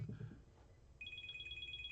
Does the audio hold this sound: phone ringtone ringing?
yes